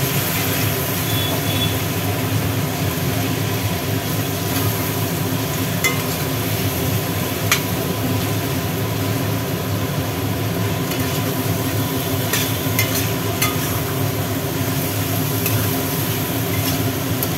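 Potatoes coated in poppy seed paste fry in a pan, giving a constant, dense sizzling hiss with a low rumble underneath and occasional faint scrapes from stirring, steady throughout with no talking.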